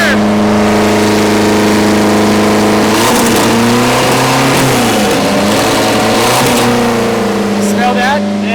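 A 650-horsepower custom minivan engine roars loudly and continuously, its deep droning note rising and falling as it revs, with a rough, tractor-like tone.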